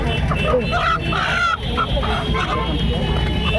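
Ducks honk and chickens cluck in a noisy cluster at Bantala rural market in Kolkata, close and busy, with people talking over the birds.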